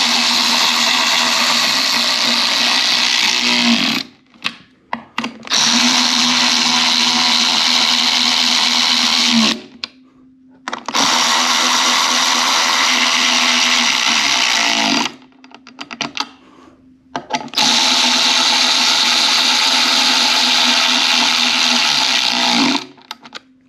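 A power tool drives 4mm hex screws on a KOMOTO X1500 electric snow scooter, in four loud bursts of several seconds each, with short silent pauses between them.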